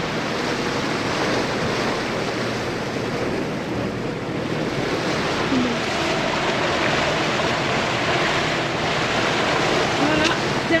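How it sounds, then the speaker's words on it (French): Ocean waves wash steadily around a sailboat arriving at Cape Verde, a broad continuous roar of surf mixed with wind noise on the microphone, with a voice faintly present. "Il y a de belles vagues."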